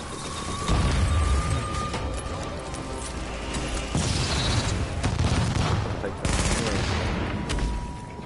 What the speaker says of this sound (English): One of them is shooting.